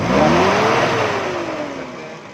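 A tuned 1982 Toyota Corolla petrol engine revs up and eases back, its pitch rising then gradually falling in one loud, close, steady rev with no misfire audible.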